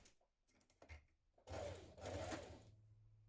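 A sewing machine top stitches close to a folded fabric edge on a dress, starting after soft fabric handling with a faint, quiet whirring run.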